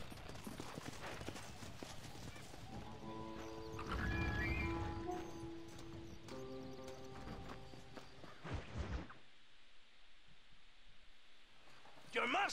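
A horse in the video game Red Dead Redemption clip-clops along at a steady gait, with a neigh and scattered thumps over game music and occasional talk.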